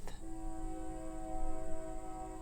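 A steady train whistle sounds with a sustained, multi-tone blare after a brief knock, holding at moderate volume in the distance.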